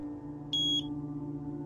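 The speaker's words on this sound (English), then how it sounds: "After the beep, repeat the following." A single short electronic beep from the PSVR2 virtual reality horror game The Twilight Zone, a clear high tone lasting about a quarter second over a steady low background hum.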